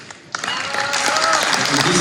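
Fan convention audience breaks into applause after a brief quiet start, the clapping swelling quickly into a sustained, fairly loud crowd ovation.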